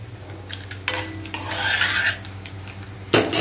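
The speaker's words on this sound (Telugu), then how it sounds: "ఎందుకంటే చాలా తాలింపు గింజలు వేగుతున్నాయండి." Tempering seeds sizzling in hot oil in a pan, heard up close as a soft continuous crackle with intermittent scraping and clinks of a spoon against the metal vessel.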